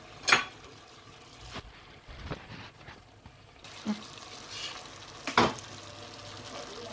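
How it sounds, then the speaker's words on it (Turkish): Minced meat and okra sauté in a pan with soft sizzling and occasional scraping stirs and clinks of a utensil, fairly quiet with no voices. "Kavurmaya devam ederken biraz sıcak su ilave ettim."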